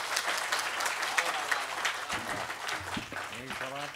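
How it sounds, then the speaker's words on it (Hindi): Audience applause for lyricist Santosh Anand at a poetry and song gathering, a steady patter of many hands that continues as a voice comes in over it toward the end. "एक बार सब मिलकर तालियां बजाएं संतोष आनंद"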